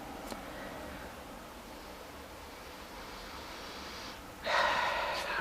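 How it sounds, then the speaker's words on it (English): A person takes a short, quick sniff close to a glass of BraufactuM Brale beer. The sniff is a brief breathy rush that comes after a few quiet seconds of faint background hiss. "Let's just give this a sniff."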